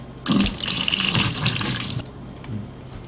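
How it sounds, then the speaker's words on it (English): Liquid from canned yam sweet potatoes pours out as they are drained, a close, steady splashing gush lasting about two seconds before tapering to a few faint drips. "Now we're gonna wanna drain these."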